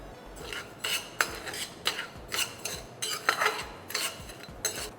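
Sugar is stirred continuously in a simmering pan to make caramel for cashew nougat. A utensil scrapes against the pan in close, rhythmic strokes, and nobody speaks.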